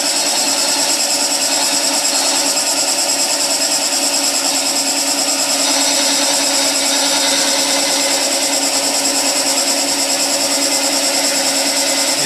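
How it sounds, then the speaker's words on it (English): A wood lathe takes a planing cut on a turning wooden piece, giving a loud, steady, close whirring and hissing tool noise that continues unbroken throughout with no talking. "So I'm going to make a planing cut going that way"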